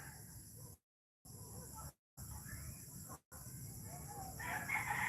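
Rooster crowing and chickens clucking around a farm chicken coop in Bohol, Philippines, heard in short stretches broken by brief gaps, with a louder, brighter call rising toward the end over steady outdoor background.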